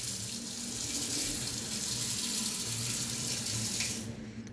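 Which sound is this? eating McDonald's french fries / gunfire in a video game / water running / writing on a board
water running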